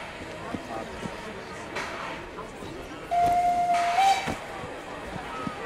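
Steam locomotive with a tender running in Assassin's Creed Syndicate: a steady rumbling, hissing rail noise throughout, with a brief whistle-like tone near the middle standing out above the bed of sound.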